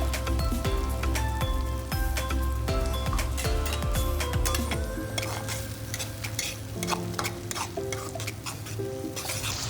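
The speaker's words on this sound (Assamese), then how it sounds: "বিলাহীখিনি অকণমান সময় ভাজি তাতে মই বনাই থোৱা পেষ্টটো দি দিছোঁ" Spice paste stirred into tomatoes frying in a pan for a fish curry, a steady close sizzle with repeated scraping stir strokes, no talking.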